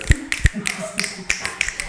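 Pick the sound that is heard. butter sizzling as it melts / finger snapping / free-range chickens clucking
finger snapping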